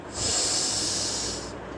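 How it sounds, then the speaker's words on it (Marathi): A single long breath drawn in through the nose, as in so-ham breathing practice, gives a steady airy hiss that swells, holds for over a second, then fades out. "तर श्वास घेताना सोह आणि सोडताना हम असा आवाज येतो"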